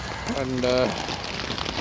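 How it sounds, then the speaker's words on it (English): Heavy rain pours steadily onto a hammock tarp at a wet campsite, a close, constant hiss under a man's brief speech. "As you can hear, the rain is just pouring down."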